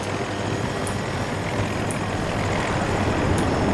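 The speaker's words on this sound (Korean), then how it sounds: "비, 비행기도 투명한데?" An airplane flying in the video game Battlefield 2042, a steady, dense engine roar that holds loud and even throughout with no voices over it.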